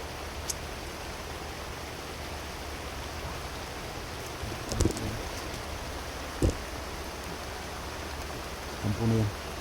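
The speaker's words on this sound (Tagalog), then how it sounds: "Grabe, sobrang lakas talaga ng ulan mga tol." Heavy rain pours steadily near a camp in broadband hiss, with a few brief louder knocks and bumps breaking through the constant downpour.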